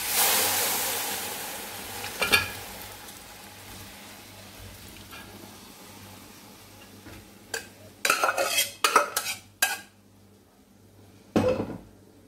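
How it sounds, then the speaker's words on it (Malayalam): Pressure cooker being opened in a home kitchen and beef dropped in for a Kerala-style curry: scattered metallic clanks and a cluster of sharp clattering knocks, fairly quiet and close, with no talking. "ഇനി നമുക്ക് നമ്മുടെ കുക്കർ തുറന്നിട്ട് അതിനകത്തോട്ട് നമുക്ക് ഇട്ട് കൊടുക്കാം നമ്മളുടെ മീറ്റ്"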